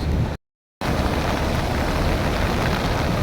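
Rain falling at a windy seashore, a steady dense hiss that fills the clip apart from a short gap near the start, with no voices.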